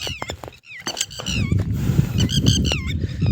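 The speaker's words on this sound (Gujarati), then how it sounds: "ટીટેરીનો અવાજ ત્યારે એટલો છે કે આપણે જે બોલવી છે એ પણ આવવા નથી દેતું" Loud, repeated shrill calls of a red-wattled lapwing ring out in sharp bursts on a farm after rain, with a low rumbling background noise underneath.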